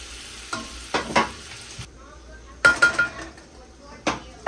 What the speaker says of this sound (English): we're going to go ahead and add the whole stick of unsalted butter